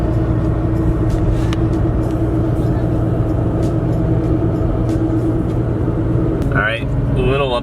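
A 2017 Toyota Tacoma riding on 33-inch tires cruises at a steady 45 mph, giving a constant loud engine and road drone heard from inside the cab, with a brief higher chirp near the end.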